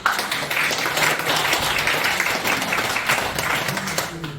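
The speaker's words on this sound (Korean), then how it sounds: "박수 한번." A congregation at a church worship service in a parliament building meeting room gives a round of applause, many hands clapping close by and steadily, fading slightly at the end.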